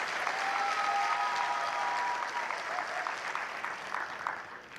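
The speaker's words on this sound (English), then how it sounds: "Give them both a round of applause." A graduation audience applauds at the 2018 Virgin Islands School of Technical Studies ceremony, a dense, steady wash of many hands clapping that stays loud throughout and eases slightly toward the end, with no voices over it.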